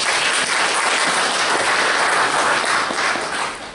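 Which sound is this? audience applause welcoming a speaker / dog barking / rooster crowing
audience applause welcoming a speaker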